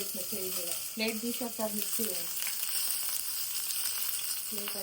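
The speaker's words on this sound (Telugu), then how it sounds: "పచ్చిమిర్చి ఫ్రై చేసుకుందాం" Green chillies sizzle in hot oil in a pan, a steady, fairly quiet crackling hiss that runs throughout while a voice speaks over the first half.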